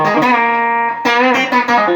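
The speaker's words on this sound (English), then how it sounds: "the bottom cab is the dirty cab" Distorted electric guitar played through the dirty cabinet of a two-amp pedalboard rig, sustained chords with a thick saturated tone, loud and close, changing chords about every half second near the end.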